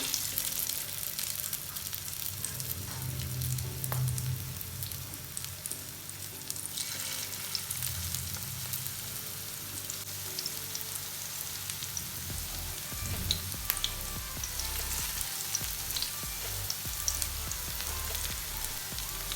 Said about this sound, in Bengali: এবার আমি এই সাইজের বল আকার করে গরম তেলে দিয়ে দিব।